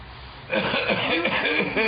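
A voice imitates coughing with a few rough, raspy bursts, close and fairly loud.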